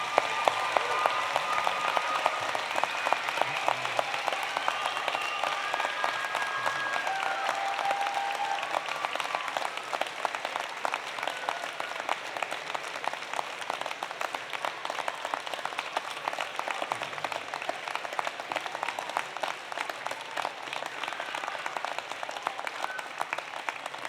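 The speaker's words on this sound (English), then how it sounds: "give them a great big round of applause." A large audience at a University of Alberta spring convocation applauds, a dense sustained wash of clapping that stays loud and even for over twenty seconds with no speech over it.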